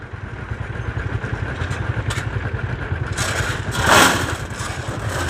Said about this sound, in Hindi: ये ट्रैक्टर जी यहाँ पर फिर आ गया।